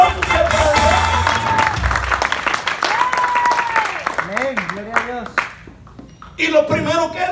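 A church congregation applauds and cheers, heard as dense clapping under a preacher's loud voice, which fades near the end before he talks again.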